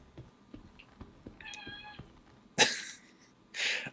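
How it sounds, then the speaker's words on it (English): A pet cat meows briefly at a distance, a harmonic cry partly buried under game sounds and later bursts of noise, faint and short rather than prominent. "she likes to meow"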